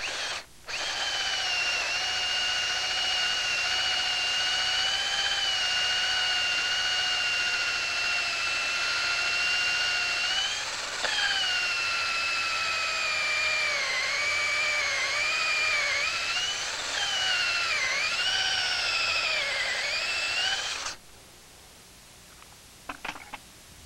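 A power drill runs steadily for about twenty seconds, boring a tenon into the end of a log for log furniture, its high whine holding pitch and then dipping and wavering near the end before cutting off abruptly.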